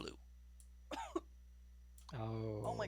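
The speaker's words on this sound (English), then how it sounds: "Cough it up." A person gives a few short, sharp coughs and throat-clearing bursts, with a voice following closely at the end, all heard close up over a low steady hum.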